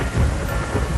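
Heavy rain pours as a dense, loud wash with a deep thunder rumble underneath, a brief continuous storm effect with no voices.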